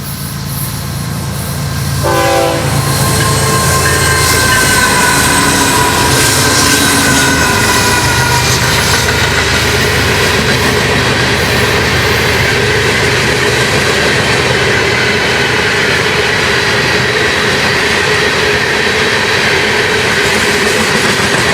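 Florida East Coast Railway freight train 101 passes close by in Pompano Beach. Its horn blasts near the start, and a loud, continuous roar of rolling cars follows with some wheel squeal, while the clatter of the wagons carries on.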